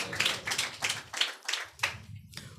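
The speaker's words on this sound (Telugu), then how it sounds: "చప్పట్లు కొట్టి ప్రభునామాన్ని ఘనపరచుదము గాక" A church congregation claps hands in unison during a Sunday service, with six rhythmic bursts of clapping about half a second apart, fairly close and distinct, with no talking.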